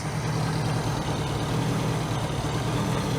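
A 1982 Honda GL1100 Goldwing with a single-carb conversion kit idles steadily and evenly, a close, loud, low engine hum and rumble with no talking.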